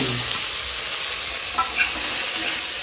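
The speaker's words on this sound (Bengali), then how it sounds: "চিংড়ি মাছটাকে লাল লাল করে ভাজতে হবে।" Prawns fry with potatoes, turmeric and salt in a pan, a loud, continuous close sizzle with brief stirring scrapes in the middle and no talking.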